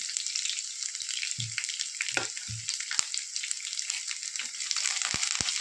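Mustard seeds and garlic sizzle in hot coconut oil for a Kerala-style carrot and beans upperi, a steady bright frying hiss with a few soft low knocks and sharp crackles, close and continuous, with no talking.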